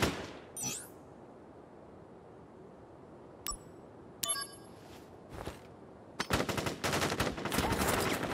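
Soldiers fire a volley in Crisis Core: Final Fantasy VII: a few scattered sharp shots and clinks, then a dense, sustained burst of rapid gunfire that builds loud over the last couple of seconds.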